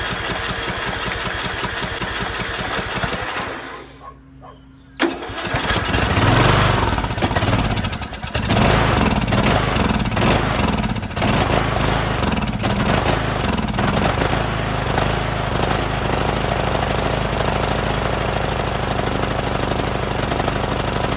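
A rebuilt Briggs 19.5HP engine on a John Deere LA110 lawn tractor cranks, cuts out briefly, then fires and settles into a loud, steady, close running drone that continues uninterrupted.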